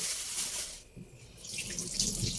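A kitchen sink tap runs while dishes are washed, giving a steady close rush of water that briefly dips as the flow is interrupted, then splashes back fuller; no one speaks.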